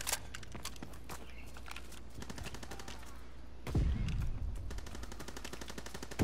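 Light machine gun fire in Call of Duty: WWII, sounding as rapid sustained bursts of shots with a louder, heavier blast near the end, over a low game background.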